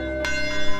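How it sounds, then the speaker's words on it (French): Church bell in Jeffersonville, the same bell rung on Sunday mornings for decades, a brief resonant tone with long sustained harmonics ringing clearly. "la même cloche qui sonna ce certain dimanche matin il y a 71 ans, appelant les croyants à venir assister au service, sonne toujours fidèlement actuellement"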